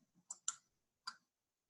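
Computer mouse clicks, close and quiet: about four sharp, dry clicks, two in quick succession, then a single click after a short pause, against silence.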